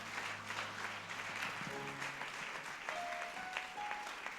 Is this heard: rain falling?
no